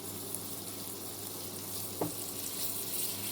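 Carrot and onion sautéing gently in oil over low heat in a pan, a steady soft sizzle running the whole time with one brief louder crackle midway, no talking.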